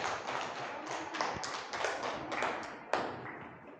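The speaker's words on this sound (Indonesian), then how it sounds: "Tepuk tangan semuanya." A classroom audience claps after a group presentation, a short burst of fairly quiet, scattered applause that swells and fades over a few seconds.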